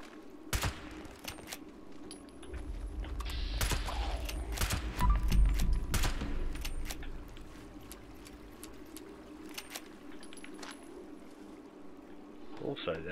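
Gunfire in Fallout 76 inside an instanced dungeon: scattered sharp shots and a denser burst in the middle, heavy low rumble, fairly close, with long quieter stretches between and no talk.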